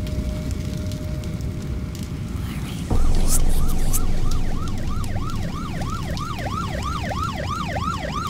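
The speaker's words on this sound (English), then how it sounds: "Ambulance! Finally!" Ambulance siren in the horror video game Nightmare House 2, a steady wailing siren that starts partway through and cycles rhythmically at close, loud range over a rumbling fire-like ambience, with no talk.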